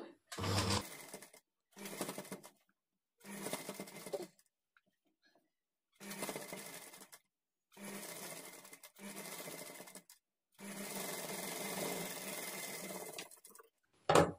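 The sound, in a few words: sewing machine stitching puff sleeves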